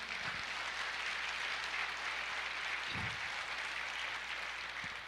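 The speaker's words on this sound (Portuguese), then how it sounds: "Pode aplaudir ao Senhor." A church congregation applauding, a steady broad wash of clapping filling the whole stretch at even loudness, with a few low thumps and no voices over it.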